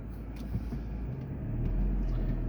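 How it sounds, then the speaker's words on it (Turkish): A car passes behind a person on a street in Avsallar, Alanya, a low steady rumble that grows slightly louder toward the end, with no voices. "Arkamda da araba varmış"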